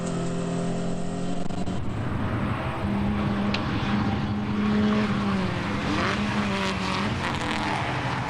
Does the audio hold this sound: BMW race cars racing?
yes